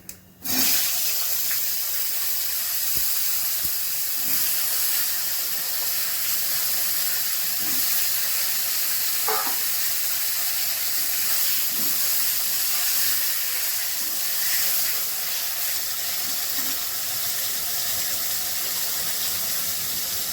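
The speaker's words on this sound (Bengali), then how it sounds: "এবার আমি বেগুন দিয়ে দিচ্ছি" Eggplant pieces hit hot oil seasoned with nigella seeds, setting off a sudden loud hiss that settles into a steady, even sizzle with a few faint knocks.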